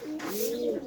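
A pigeon gives a single drawn-out coo lasting under a second, a smooth warbling call heard close and clear with no talk over it.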